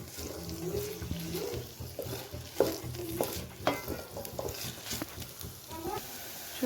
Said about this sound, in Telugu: ఇప్పుడు మనం టాపింగ్స్ని ఫ్రై చేసుకుంటున్నాం.